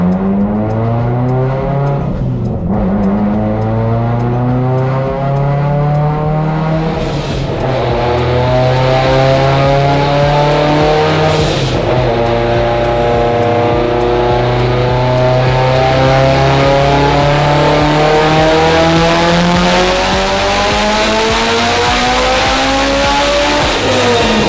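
A Honda Type R on its stock engine revving hard under full load, loud and close, with rising pitch sweeps, brief breaks at gear changes, then a long sustained pull to high revs.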